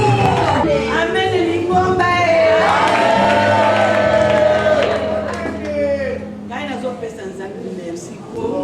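Church congregation cheering and loudly acclaiming the Lord, a dense, sustained crowd of raised voices and shouts that swells and then eases, with talking mixed in throughout.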